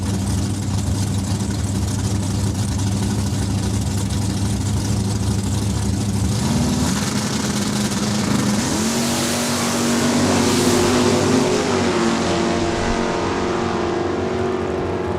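A 1966 Ford Fairlane drag race car at a raceway, its loud engine droning steadily nearby, then the pitch rising in stepped climbs as it revs and accelerates, with a rumbling low end throughout.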